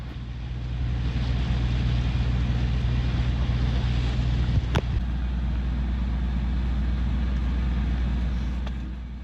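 A sailboat's engine drones steadily at close range, a constant low rumble mixed with wind buffeting and water rushing past the hull as it motors along with the tide at over 10 knots.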